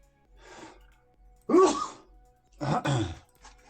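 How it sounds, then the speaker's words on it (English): A single sharp sneeze bursts out after a soft breath, followed by another loud, noisy expulsion and a faint trailing breath; close and alone. "going to sneeze now"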